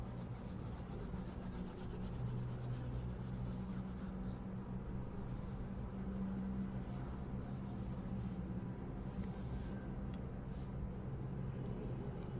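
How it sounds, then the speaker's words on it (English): Writing is erased from a board: a continuous, soft, scratchy rubbing that runs steadily and close by, with no talking over it. "let me just erase this stuff"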